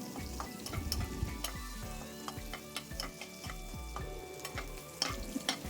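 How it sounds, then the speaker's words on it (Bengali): Chopped chilli and garlic sizzling in hot oil while a spoon stirs them, with repeated scraping strokes against the pan in a steady rhythm, close and clear. "লঙ্কা কুচি রসুন কুচি আর লঙ্কা কুচি তেলের সাথে ভালো করে নাড়াচাড়া করে নেব"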